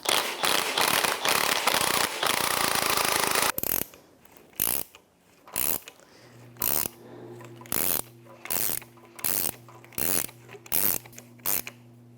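Ratchet wrench loosening an 18mm strut nut on a 2002-2005 Ford Explorer front shock absorber, a run of rapid clicking followed by a series of separate bursts of ratcheting clicks.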